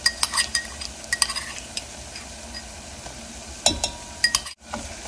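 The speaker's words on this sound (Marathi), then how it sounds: "आणि हे छान पैकी परतून घेऊया।" Onion sizzles in a hot pan while ginger and garlic are stirred in, with scraping spoon strokes, light clinks of utensil against metal and a soft steady frying hiss, no voices.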